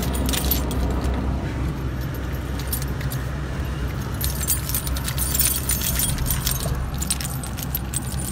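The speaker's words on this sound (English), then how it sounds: "I have got my car keys back." A bunch of car keys jangles continuously, close and bright, with repeated metallic clinks over the low hum of a car.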